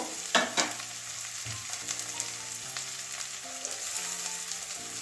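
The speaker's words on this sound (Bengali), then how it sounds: "ভালো করে এবারে আদা রসুনের পেস্টটা দিয়ে দেবো" Ginger garlic paste sizzles and fries in a pan while cooking a bean and potato curry, a steady crackling hiss with clinks from stirring, plus a faint background hum.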